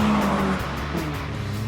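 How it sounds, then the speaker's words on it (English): A Peugeot 205 GTI hot hatchback drives with a steady, loud engine drone and possible tyre noise, continuous for the whole short stretch with no talk. "Peugeot gave us this. The phenomenal 205 GTI, a car that was fast, even with James May at the wheel."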